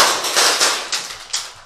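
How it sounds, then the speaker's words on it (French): A scoped pump-action shotgun fires in a video game, several sharp cracking reports in quick succession, loud and close, with no talk over them. "C'est un fusil à pompe avec une lunette."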